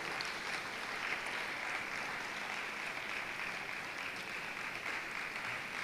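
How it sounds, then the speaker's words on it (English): A crowd at a World Malaria Day commemoration applauds a guest coming up to speak, producing a steady, fairly soft and distant wash of clapping that stays even throughout. "Please, with a round of applause, welcome Ohineyeri Gifty Auntie to say some few words."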